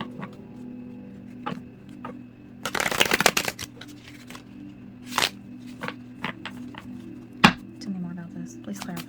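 Tarot cards are shuffled in quick riffling bursts with soft taps and handling clicks, close and fairly quiet, with a low steady hum beneath.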